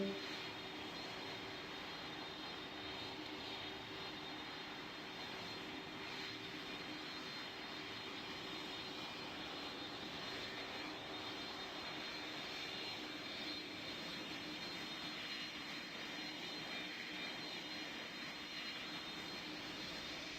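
Steady airplane engine drone from a jet in the video game Pilot Training Flight Simulator, a constant, even roar with a faint high whine running throughout and no voices.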